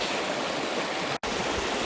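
A creek flowing along a hiking trail, steady close rushing water with a brief dropout partway through, with no voices.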